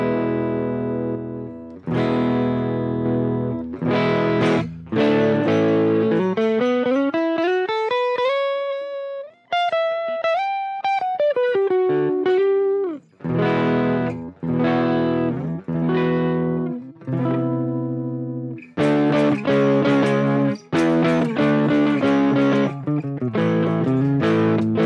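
Electric guitar played through a Fender Tone Master Pro with compression in a Southern rock rig, loud and close, alternating chords, sustained bent single notes and short riffs with even, squeezed dynamics and no talk.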